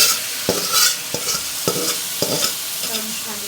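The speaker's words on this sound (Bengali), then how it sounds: "এখন সুন্দর করে নেড়ে এগুলো ভেজে নেব।" A spatula stirs boiled red spinach, with its cooking water, into onion, garlic and green chilies frying in a pan. Repeated scraping strokes come about every half second over a soft, steady sizzle.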